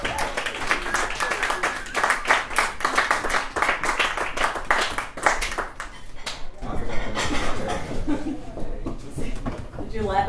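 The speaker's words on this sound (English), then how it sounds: "Keep that applause going for your next topic." Comedy club audience clapping and cheering as a comedian heads to the stage, steady applause with some laughter for about six seconds, then fading into a voice speaking over room noise.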